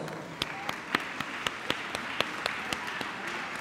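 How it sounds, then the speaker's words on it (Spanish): Applause at a Mother's Day festival: a moderate crowd claps steadily and evenly, heard from some distance, without cheering or talk. "Un aplauso para todos."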